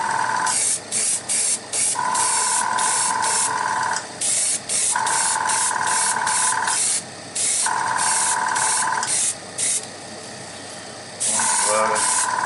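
Spray gun laying a second coat of paint on a Hummer H1, hissing in repeated bursts of about a second each with short pauses between, close and loud, with a steady tone under the spraying.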